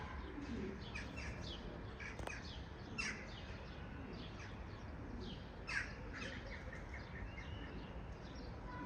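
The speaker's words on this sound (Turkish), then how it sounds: "Kuşlar Avrupa'dan, Sırbistan'dan gelen kuşlar." Birds coo softly over a steady hiss, with scattered chirps and an occasional harsher call, fairly distant and continuous throughout.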